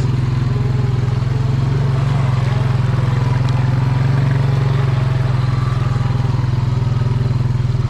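A four-wheeler ATV engine runs steadily with a continuous low, throbbing drone and light rattle, heard close and loud throughout while riding through swampy property.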